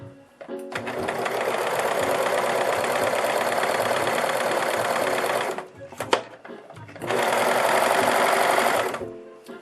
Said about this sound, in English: You need to sew first with nothing under the presser foot.